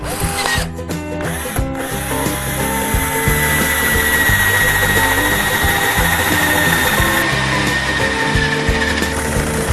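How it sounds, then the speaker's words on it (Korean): A power drill fitted with a hole-saw bit cuts a hole, a loud, steady high whine after a few stuttering starts and stops, grinding continuously close by. "드릴에 날만 간단히 갈아 끼워도 구멍 뚫는 것이 이처럼 간단합니다"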